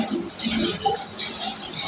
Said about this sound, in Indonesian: Kita bilas kedua tangan dengan posisi jari harus lebih tinggi